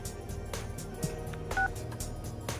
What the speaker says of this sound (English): Who's calling at this hour?